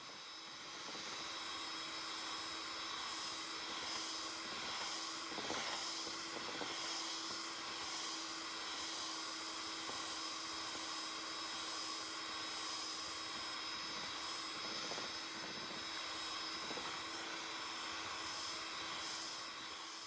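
Mixer creaming pound cake batter with six eggs, a steady high whirring motor drone with slight fluctuations, continuous and close for the whole stretch.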